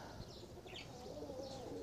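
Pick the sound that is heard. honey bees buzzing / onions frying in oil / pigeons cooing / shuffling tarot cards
pigeons cooing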